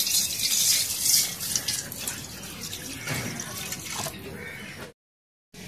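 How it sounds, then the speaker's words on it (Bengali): Water is poured into a wok to start sugar syrup in a village kitchen, a splashing, tap-like stream close by that eases off and stops abruptly near the end. "জল দিয়ে দিই।"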